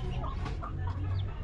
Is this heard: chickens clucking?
yes